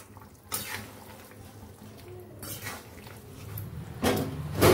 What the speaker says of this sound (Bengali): ঝোলের সঙ্গে মিশিয়ে নিই।